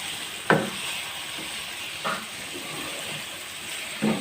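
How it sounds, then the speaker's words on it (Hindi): Mutton or meat being fried with a spice mix in a pot for an Old Delhi shola, a continuous soft sizzle with three short stirring clatters spread across it. "मैं सारे के सारे इसमें डाल दूँगी और अच्छे से गोश्त की भुनाई स्टार्ट करनी है"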